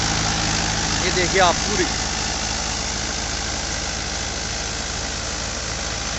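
Mahindra 575 DI four-cylinder tractor engine drives a wheat thresher at steady high revs, a loud continuous drone with mechanical clatter throughout, while someone talks briefly over it near the start.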